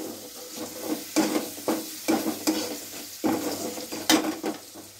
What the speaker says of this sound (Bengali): জিরের গুঁড়ো দিয়ে একটু নাড়াচাড়া করে নিলাম।